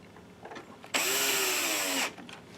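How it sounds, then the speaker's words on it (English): A power screwdriver drives a screw into an NEC P502HL-2 DLP laser projector during a phosphor wheel fan repair, giving one close, loud whine just over a second long that dips in pitch as the screw seats. "Then we'll put the screws in that hold that in."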